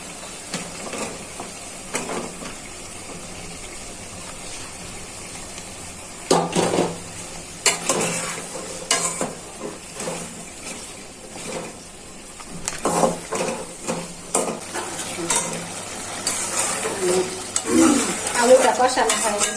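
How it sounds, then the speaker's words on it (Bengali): Potatoes being stirred and fried in a pan after fish has been cooked down, with scraping spatula strokes and light sizzling that come in irregular bursts, louder in the second half, with no talk. "মাছটা কষানো হয়ে গেছে, নামিয়ে নিচ্ছি। এখন সাথে আলুগুলো দিয়ে দিচ্ছি।"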